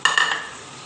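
Chickpeas with spices fry and get stirred in a pot, a brief scrape and sizzle that quickly fades into a soft hiss.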